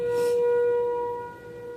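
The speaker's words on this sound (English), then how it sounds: "they're testing the storm sirens." A storm warning siren being tested sounds from a distance, a steady sustained tone holding level and then fading slightly, with no voices.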